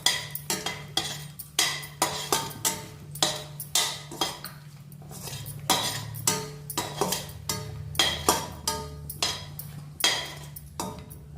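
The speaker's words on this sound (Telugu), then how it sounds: "నలుపుతాలు వచ్చే వరకు ఎండుమిరపకాయలు వేయించుకోవాలి." Dried red chillies fry in a pan for a ginger pickle, stirred with repeated rhythmic scrapes and clinks of a utensil against the metal over a low steady background, close and fairly loud.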